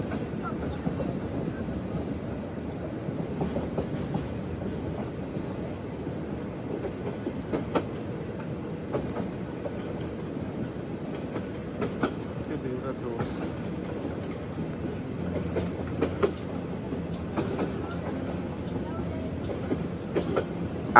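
An intercity express train, the Egarosindur Provati Express near Dhaka, rumbles steadily along the rails on a cloudy day, with a continuous low roll and faint rhythmic clicks throughout.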